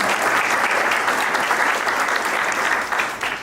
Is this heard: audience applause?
yes